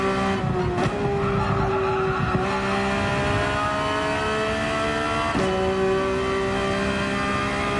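Race car in Gran Turismo 7 at Laguna Seca running off the track, with a loud, steady engine drone, shifting revs and tyre skid noise throughout, no voices.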